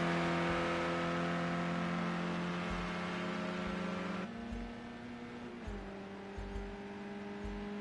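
A touring race car engine roars through a racing video game round at the Daytona road course, holding a loud, steady high drone that shifts pitch mid-lap as it downshifts and pulls again, with brief low thumps underneath.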